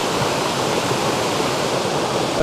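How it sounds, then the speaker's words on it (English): A waterfall and a little cascade over rocks, a constant close-up rush of falling water, dense and even, with no voices. "I'm now just looking out over this rock to the little cascade and up to the waterfall"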